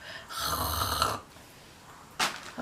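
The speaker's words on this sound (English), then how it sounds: "my baby is really in there snoring" A single soft snore from a baby, a drawn-out raspy inhale followed by a quieter stretch and the start of another breath, heard close up.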